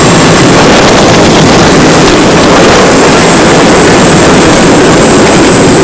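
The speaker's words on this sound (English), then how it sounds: "On our next approach, we land the jet, which shudders to a violent halt." A large jet touching down on a rough back-country airstrip and shuddering to a violent halt, its engines a loud, steady, overwhelming roar that fills the whole stretch without a break.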